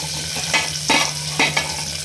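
Chopped onion sizzling in hot oil, a constant close frying hiss with a few brief bursts as it is stirred.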